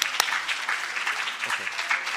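Audience at a research indaba on gender-based violence in higher education breaks into brisk applause, a dense, steady patter of many hands clapping at close range.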